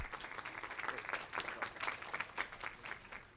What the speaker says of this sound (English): I know you're already applauding